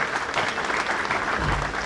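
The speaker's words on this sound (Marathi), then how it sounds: "जोरदार टाळ्या एकदा" Audience at a Ganesh festival event honouring a cricketer, giving a short burst of steady, dense applause from a crowd nearby.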